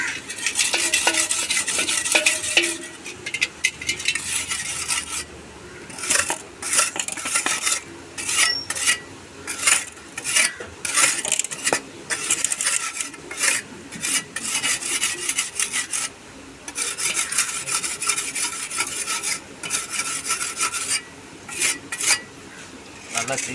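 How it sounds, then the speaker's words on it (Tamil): An aruvamanai kitchen blade is sharpened with rapid, rhythmic rasping strokes, bursts of gritty scraping with brief pauses between them, close and fairly loud. "நம்ம அருவமனை தீட்டிக்கிறோம்"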